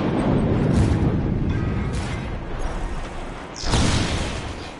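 Deep rumbling booms from explosions in the video game Just Cause 3 fill the clip, with a fresh blast swelling about three and a half seconds in over continuous low roar.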